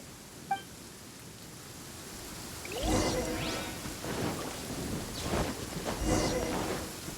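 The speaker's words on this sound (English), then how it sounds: "Uh-oh! Lightning storm!" A lightning storm in the video game Genshin Impact brings soft rain hiss and low rumbling thunder with whooshing gusts, building into several rolling swells of fairly quiet storm noise.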